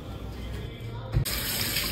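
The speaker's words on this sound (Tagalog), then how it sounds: "uhugasan yung fish, yung isda, pipigain" Fish being washed under running water at a kitchen sink, a close steady gush of tap water that swells louder and brighter near the end, with no voices.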